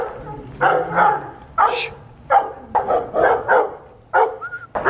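Several dogs bark in short, scattered bursts, fairly close, with yips and a brief whine between barks.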